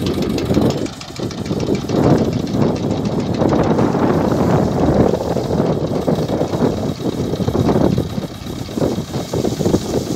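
The engine of a crop sprayer runs steadily close by during herbicide spraying of winter cereals, a loud, rough, continuous rumble with some wind buffeting on the microphone.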